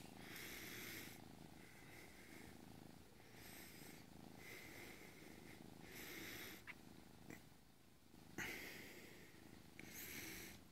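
A tiger-striped leopard cat purring steadily up close, the rhythmic rumbling swelling and fading in regular breaths for the whole stretch, with a few small sniffs and snorts mixed in.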